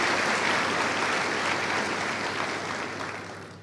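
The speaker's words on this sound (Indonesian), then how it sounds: "Kita berikan aplaus untuk kita semua di sini." Sustained applause from a large audience of university students at a televised talk-show event on diversity and tolerance, dense and loud clapping that fades slightly toward the end.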